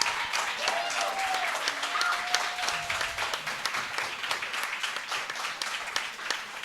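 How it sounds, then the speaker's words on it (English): Studio audience at a show applauding its guests, a steady dense patter of many hands clapping throughout, with a voice speaking over the start. "Let's give a big applause for our guests, Eric and Julia."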